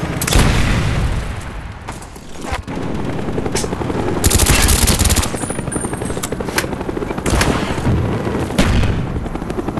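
Cobra attack helicopter in a Call of Duty video game: loud rotor thrum under heavy bursts of rapid machine-gun fire and booming impacts, nearly continuous throughout.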